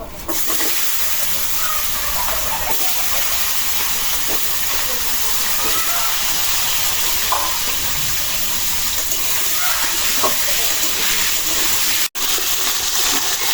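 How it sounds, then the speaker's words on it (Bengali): Continuous hissing sizzle of potatoes frying in oil, steady and close, with faint clinks and a brief cut near the end. "এই মাছ ভাজা তেলেই আলু ভাজতেছি"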